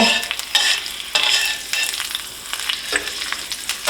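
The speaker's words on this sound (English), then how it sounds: "we're just going to fry them a moment longer here" Herbs crackle and sizzle in hot oil being seasoned for turkey gravy, a steady frying hiss with occasional louder pops and stirring bursts, close up and without voices.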